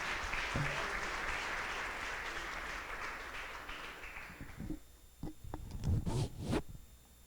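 A church congregation applauds in a dense, even burst of clapping that gradually thins out, leaving a few scattered claps and faint shuffling noises at the end.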